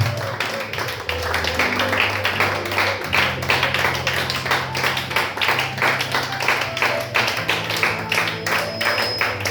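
A church congregation clapping in a steady, fast rhythm to acclaim Jesus, dense and continuous hand claps over a low sustained musical drone, filling the room throughout.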